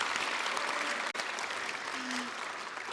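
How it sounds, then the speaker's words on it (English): A convention audience at a gaming panel breaks into sustained, dense applause that stays even and fairly loud throughout, with a faint voice briefly underneath. "So I think that deserves a round of applause"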